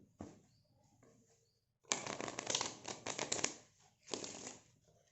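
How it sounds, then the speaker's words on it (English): A deck of playing cards riffle-shuffled up close: a faint flick, then two crisp bursts of fluttering, ruffling cards, each about a second long, with quiet between them. "I will give the deck a refresh shuffle."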